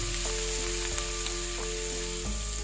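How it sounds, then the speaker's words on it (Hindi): Green chili and ginger sizzle steadily in a hot pan, a loud, continuous frying hiss close up with a few faint stirring knocks and no talking. "थोड़ा सा इसको फ्राई करेंगे"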